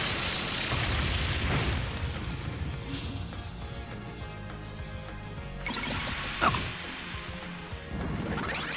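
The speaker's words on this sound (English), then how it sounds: "Brionac, activate. Fire!" The Brionac weapon fires in the Trails of Cold Steel 3 video game, a dense, loud blast of booming explosions and crashing debris that rolls on continuously, with a sharp crack near the end and no talking.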